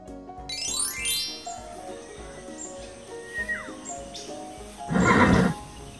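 A horse whinnies loudly near the end, a burst of rising and falling neighing standing out over busy animated-show music and effects.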